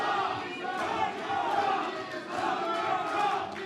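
Supporters at a Korean political party candidate event chant in unison, rising and falling in rhythmic waves of many voices at moderate loudness.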